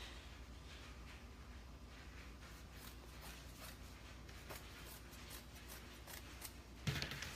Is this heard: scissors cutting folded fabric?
yes